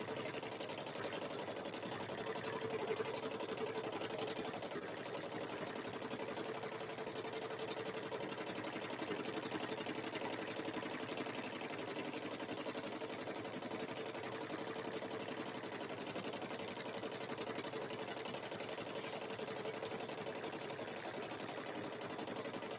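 A sewing machine runs steadily for a long stretch, stitching a quilted Grinch handbag with a fast, even mechanical whir throughout.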